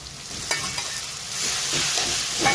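Food sizzles steadily in a pan as boiled potatoes and pav bhaji masala are mixed for tawa pulao, a utensil scraping and tapping through it a few times; no speech.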